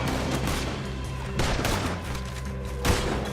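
Heavy gunfire in Red Dead Redemption II during a fight against a horde of attackers, a continuous loud crackle of overlapping shots with sharper bursts standing out at intervals.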